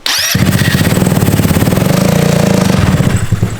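A 150cc GY6 scooter engine starts up after a brief sputter and settles into a steady, close, buzzing run with a pulsing rhythm, no talking over it.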